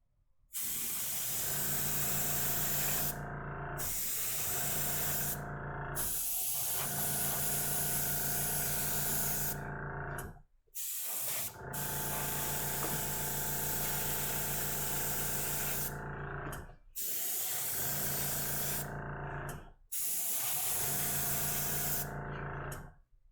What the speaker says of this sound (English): So we're going to go back to our airbrush